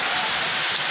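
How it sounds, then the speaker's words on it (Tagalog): Steady heavy rain pouring down, a dense, continuous hiss of drops on surfaces with no pauses. "Lakas pa rin ulan, ha?"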